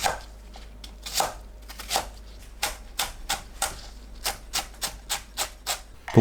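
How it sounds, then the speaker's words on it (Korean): A knife finely chopping green onion on a cutting board, a rapid series of crisp, close taps in an even rhythm that speeds up toward the end, with no voices. "파를 작게 썰어줍니다."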